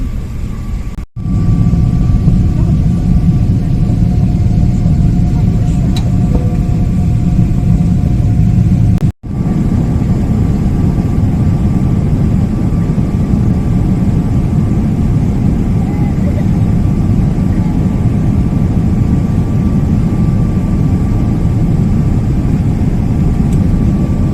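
Airplane engine noise at an airport beside a China Airlines flight, a loud, steady low rumble and whine heard from inside, with two brief cut-outs.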